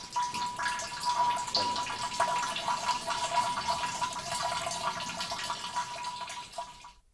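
Traditional grain spirit drips drop by drop from a still, a faint steady patter of small drips under a soft continuous trickle, close and quiet, with no voices.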